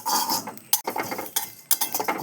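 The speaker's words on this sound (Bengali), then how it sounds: "আমি একটু গোটা জিরে আমি শুকনো কড়াই নেড়ে নেব।" Whole cumin seeds stirred in a dry wok make scraping, rattling clinks of a metal spatula against the pan, close and fairly loud, in short irregular bursts with brief pauses between strokes.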